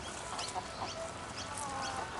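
Several backyard garden chickens, all hens, cluck and chatter in short bursts over a steady rustling background, with no one speaking.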